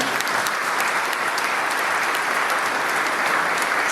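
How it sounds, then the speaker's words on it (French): A church congregation at a First Communion Mass applauds the catechists with steady, dense clapping from a large crowd that carries on evenly the whole time, loud and filling the space. "Est-ce qu'on peut applaudir les catéchètes ici?"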